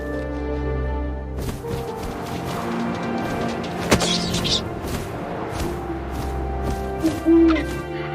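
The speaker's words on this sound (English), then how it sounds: "And suddenly, I was an owl." An owl hoots in the game What Remains of Edith Finch, low and tonal, over a sustained ambient bed with a couple of dull thumps.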